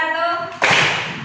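A voice is briefly heard, then a sharp burst of group hand clapping from a classroom rhythm-clapping exercise cuts in and decays over the following second.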